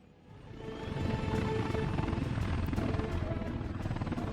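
Helicopter rotor thump builds from quiet to a steady, loud chop in the Workers and Resources: Soviet Republic game, with a dense throbbing wash holding on to the end and no talk.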